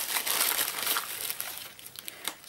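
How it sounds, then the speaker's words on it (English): Crinkly rustling and crumpling of a parcel bag as it is cut open with scissors and handled, steady close crackle throughout with a few sharper crinkles near the end. "Sorry about the rustling."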